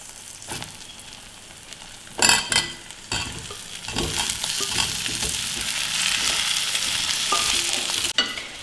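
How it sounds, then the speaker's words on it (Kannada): Peeled potatoes fry in hot oil in a home kitchen, a loud, constant sizzle with repeated scraping and clinking of a spoon stirring the pan throughout. "ಇದನ್ನ ಒಂದು 2 ನಿಮಿಷ ಎಣ್ಣೆಯಲ್ಲಿ ಈ ಥರ ಮಿಕ್ಸ್ ಮಾಡ್ತಾ ಹುರ್ಕೋಬೇಕು."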